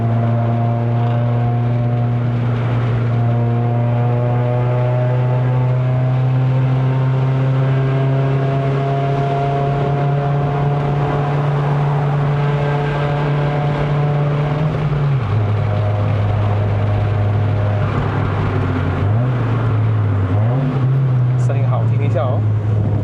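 A Toyota Vios 1.5J NCP93 with a five-speed manual gearbox climbs the Genting road in Malaysia. Its steady, droning engine and exhaust note holds level, then drops at a gear change and climbs again.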